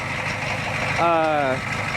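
An IDI diesel truck engine idling, a steady low rumble with a brief tonal whine rising over it midway, no voices.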